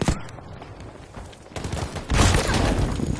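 Gunfire in the Battlefield V video game, a headshot amid a firefight: scattered shots through the first half, then a louder, denser burst of gunfire and crackling from about two seconds on.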